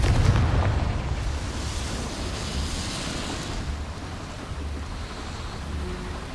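Confringo fire spell blasting a boiler in the game Hogwarts Legacy: a loud, broad burst at the start that settles into a steady roaring rumble with hiss, like a sustained fiery explosion.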